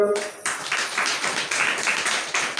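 Church congregation applauding during a sermon, a steady wash of many hands clapping close and continuous for a couple of seconds after a brief spoken moment.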